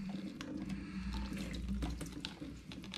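Water runs steadily into the buckets of a small water wheel, a continuous close splashing pour with faint irregular drips and trickles over a low rumble of flow.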